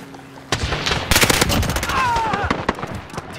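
An AK-47 fires in a video game team deathmatch: loud, rapid automatic bursts crackle close by after a brief quiet start, with short whizzing tones between the shots.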